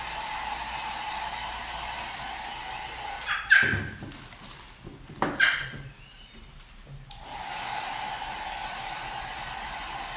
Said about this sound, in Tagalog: Mabait si Cassie pagka naka-dryer yung buhok.